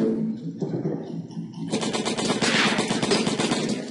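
Gunfire in the Silent Storm video game, with a quieter opening and then a sudden loud burst of rapid machine-gun fire that rattles on steadily to the end.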